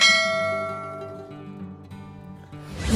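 A notification bell chime rings out loud and clear, its bright tone slowly decaying over about three seconds before a rising swell at the end.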